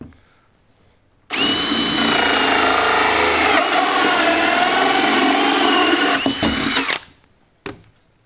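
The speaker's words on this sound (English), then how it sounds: "let's try to drill a second hole in speed 2." A HART drill runs a bit at speed 2, boring a second hole with a loud, steady whine for about six seconds, starting abruptly and cutting off with a brief final burst.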